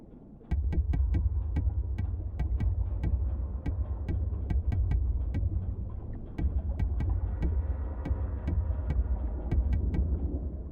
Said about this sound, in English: the knocking is actually Morse code